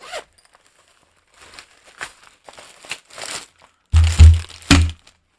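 Zipper on an Amazon Basics tripod carry bag is pulled open: faint rustles and handling first, then a few close, loud zip strokes near the end.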